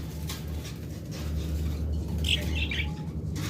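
Lovebirds in a cage give a few short, bright chirps that rise briefly above a steady low hum of background noise.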